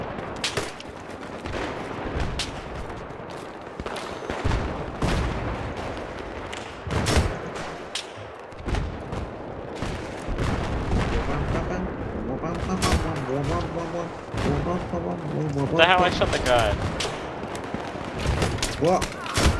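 Bursts and single shots of gunfire ring out in Battlefield 3 multiplayer, sharp cracks recurring through the stretch while players talk and react over the action.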